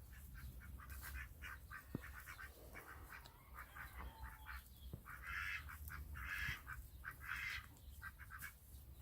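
Indian Runner ducks quack in soft, scattered bursts at a distance, their calls repeating irregularly over a quiet outdoor background in a vegetable garden.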